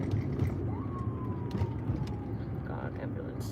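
A faint, distant siren wails briefly over busy street noise, its pitch sliding once before fading into the traffic hum.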